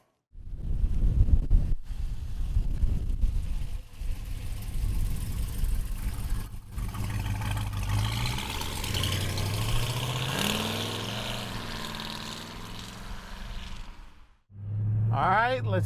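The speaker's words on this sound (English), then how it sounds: "let's take this 69 Malibu sleeper for a ride" A 1969 Chevrolet Malibu sleeper runs and revs as it pulls away, the engine loud with wind buffeting the microphone and rising tones as it accelerates, then cutting off and restarting briefly, with talk over it.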